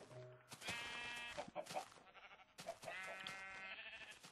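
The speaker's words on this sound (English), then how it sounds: "it's another brown sheep. There's three brown sheep." Two drawn-out bleats from sheep in Minecraft, close and clear, one near the start and another about halfway through, with no voices around them.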